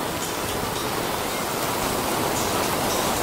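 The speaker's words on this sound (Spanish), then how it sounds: "le está grabando en plena lluvia de Playa del Carmen" Heavy rain falling at Playa del Carmen beach, a dense, steady hiss of downpour close by with no pauses.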